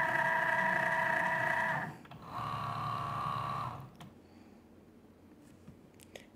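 A Cricut cutting machine whirs as it feeds the cutting mat, a close mechanical motor drone in two bursts separated by a short pause, then quiet clicks.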